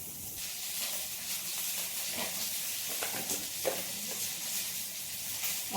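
Black gram lentils frying in a pan, a steady close hiss and sizzle with soft stirring scrapes, continuous throughout.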